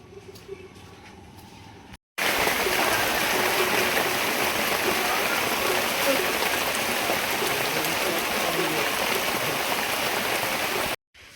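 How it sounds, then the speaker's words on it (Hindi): Heavy early-morning rain pours down on a flooded town square, a dense, steady roar of falling and running water that starts abruptly after a quieter opening and stays loud almost to the end. "जबरदस्त पानी गिरे।"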